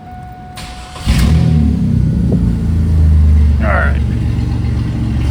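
A 2000 Chevy Camaro V6 engine with the muffler removed rumbles loudly and roughly, rising into a sustained revving drone after a brief spoken phrase at the start.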